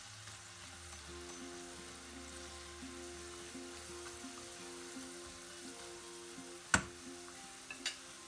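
Sliced bitter gourd chips fry in hot oil as the bubbling settles, a steady low sizzle with faint ticking and two sharp clicks near the end, no voices.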